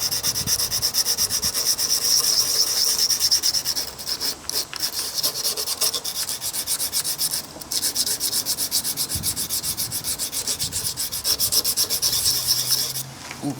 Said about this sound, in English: let's keep sanding here